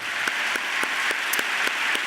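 Audience applause at the 18th Gala des Grands Prix Desjardins du Défi OSEntreprendre. Steady clapping fills the room, with a few sharper claps standing out at fairly regular intervals and no one speaking.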